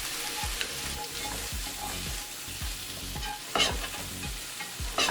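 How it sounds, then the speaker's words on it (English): Pre-cooked sausage browns in a pan with a steady sizzle, while a utensil stirs and scrapes at a regular rhythm of roughly one stroke every half second, close and clear. "For the sausage, it's pre-cooked, but I want to lightly brown it for added flavor."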